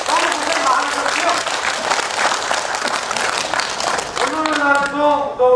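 An audience at an elementary school alumni association outdoor gathering in a Seoul forest park claps in sustained applause, dense and fairly loud, with a voice speaking over it near the end.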